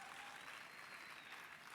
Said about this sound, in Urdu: یہ پیچھے سے جتنے مرد ہیں سب بہت زیادہ تالیاں بجا رہے ہیں اس بات پہ